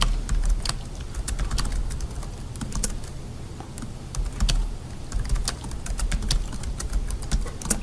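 Typing on a computer keyboard at close range, a quick irregular run of crisp key clicks with short pauses, with no talking.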